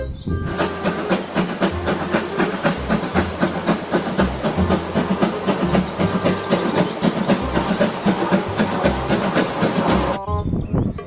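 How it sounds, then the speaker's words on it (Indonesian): A toy Thomas the Tank Engine steam train runs with a constant loud hiss and rapid rhythmic chuffing clatter, then stops abruptly near the end. "Yang ini namanya kereta api Thomas teman-teman."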